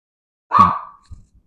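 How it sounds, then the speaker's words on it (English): A dog gives one short, sharp bark indoors, followed by a brief faint thump in otherwise quiet surroundings. "Sorry about my dog"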